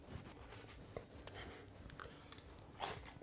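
Close, crisp crunching of someone chewing celery, irregular bites and chews over several seconds with no talking.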